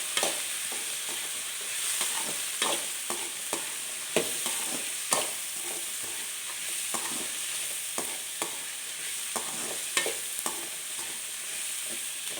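Snake gourd and tomato sauté in a pan, giving a steady sizzle and frying hiss broken by regular scraping stirs, close and continuous with no speech.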